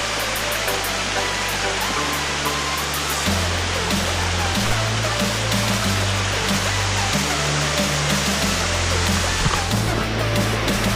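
Yeddi Gozel waterfall in Azerbaijan roars as a steady, loud, close rush of falling water, constant and broadband from start to finish, with low music-like tones beneath it and no speech.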